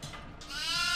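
A goat bleats in the horror video game Devour, giving one short, nasal bleat that rises and grows louder to the end.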